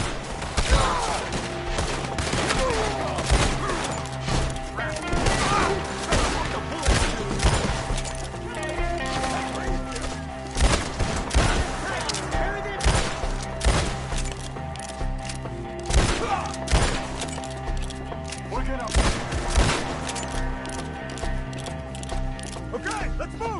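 Gunfire during a shootout in the video game Red Dead Redemption 2, sharp repeated shots scattered in irregular volleys, loud and near, mixed with clicking weapon mechanisms and hoofbeats, with shouting voices over parts of it.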